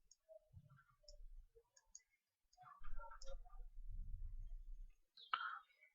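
Computer mouse clicks while working on a chart in Excel, a few soft, sparse clicks with quiet low thuds between, no speech.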